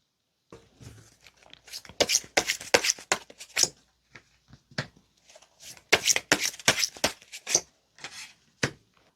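Tarot cards are shuffled in crisp, riffling bursts of flicks and slaps, with two main flurries separated by quieter taps and single card snaps, close and alone.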